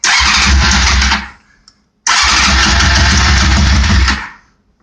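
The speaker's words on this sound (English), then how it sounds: "Choke it all the way on." A 1997 Honda CBR600 motorcycle engine cranked on full choke, two loud bursts of about a second and two seconds each with a short gap between, each fading out, no talking.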